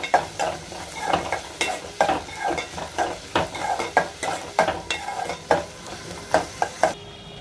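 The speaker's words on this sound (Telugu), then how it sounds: "అలాగే ఉల్లిపాయలు కూడా వేసుకుంటున్నాను వీటిని బాగా ఫ్రై చేసుకోండి" Sliced onions frying in a pan while being stirred, a soft steady sizzle with rhythmic scraping strokes of a spoon, close and moderately quiet, no talking.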